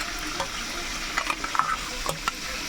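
Chicken pieces frying in hot oil for a homemade curry, a steady soft sizzle with a few brief crackles and pops as pieces are added one at a time, moderately quiet and close, with no talk.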